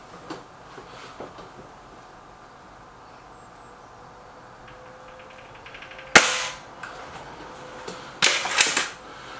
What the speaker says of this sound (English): Five shots to centre target.